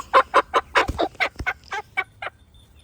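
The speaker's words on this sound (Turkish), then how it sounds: "Şuradan bir horoz yakalayayım göstereyim size" A Brahma rooster crows in a run of rapid, close, harsh squawking calls that fade off toward the end, with a couple of low thumps underneath.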